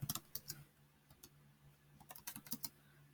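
A computer keyboard is typed on in two short bursts of quick, faint clicks separated by a pause, close and quiet with no talk.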